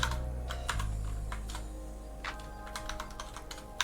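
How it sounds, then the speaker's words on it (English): Quick bursts of typing on a computer keyboard, close and fairly quiet, irregular clicks in small clusters over a low steady hum, with no talk. "pressing all the wrong keys"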